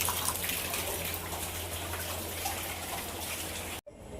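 Water running and gurgling steadily as it drains away, a continuous close splashing wash that cuts off abruptly near the end.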